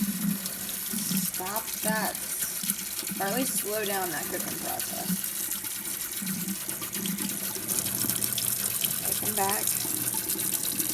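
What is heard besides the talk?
cold tap water rinsing cooked noodles in a colander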